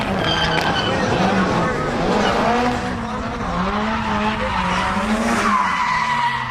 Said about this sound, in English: That's Simon Mickelmore doing donuts around Christian's 180SX.